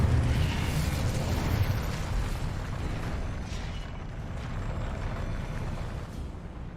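An Incendio fire spell roars in Hogwarts Legacy on PS5, a loud sustained whooshing burst of flame that stays steady and dense for several seconds, then eases slightly.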